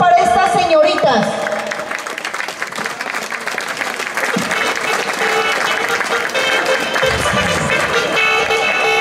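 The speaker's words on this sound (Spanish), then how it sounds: "¡Aplausos para estas señoritas!" Audience applause for young women contestants at a village beauty pageant in Vereda Obando, steady loud clapping throughout with voices and music-like tones mixed in.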